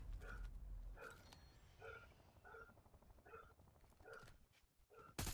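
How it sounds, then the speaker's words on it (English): A dog barks repeatedly at a distance, roughly seven evenly spaced barks over a low rumbling background hum. "y'all hear this barking ass dog?"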